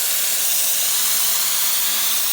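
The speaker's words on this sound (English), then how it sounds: "the power of steam, getting it done, cleaning coils with absolutely no chemicals" A steam cleaner hose blasts a continuous loud hiss of steam onto large air handler coils, steady and close throughout with no voices.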